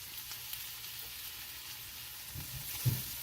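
Bella mushrooms frying in a pan for a vegan feta and tomato pasta, a steady soft sizzle with a couple of faint stirring knocks near the end.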